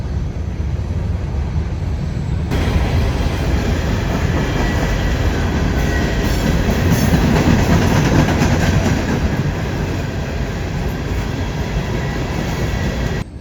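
A train rumbles past nearby with a steady, dense roar and faint rhythmic clatter, loud and continuous throughout, with no talking.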